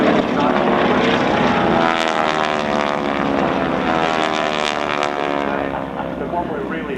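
Propeller aeroplanes fly an aerobatic display, their engine drone sustained and loud throughout with a slowly shifting pitch as the aircraft manoeuvre overhead.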